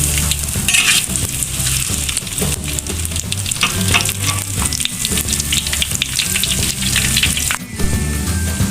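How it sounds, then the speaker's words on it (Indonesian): Shallots and garlic sautéing in a pan, with a loud steady sizzle and the scrape and clatter of stirring running throughout. "Kita tumis terlebih dahulu bawang merah dan bawang putih ya bunda"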